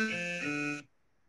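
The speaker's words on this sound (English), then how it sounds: "have a listen to the open button and the close button, you hear that they are sort of played back in reverse" A short, bright electronic interface tone of a user interface open or close button, played in reverse, holds a steady pitched chord for under a second and then cuts off into silence.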